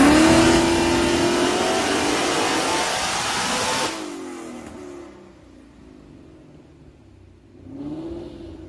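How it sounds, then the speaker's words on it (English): A Gen 3 Mustang engine with DI delete and a 6R80 transmission roars loud and close through a dyno pull, revs rising steadily, then drops off abruptly and winds back down, with a short blip near the end. "we did a quick little dyno pull with it."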